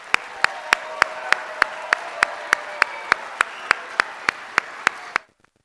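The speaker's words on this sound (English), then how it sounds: "Let's give everyone one more big round of applause." Audience applause at an academic growth recognition ceremony for students, a steady wash of clapping with regular sharp claps standing out, sustained for about five seconds before stopping abruptly.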